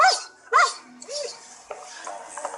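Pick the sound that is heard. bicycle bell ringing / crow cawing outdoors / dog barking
dog barking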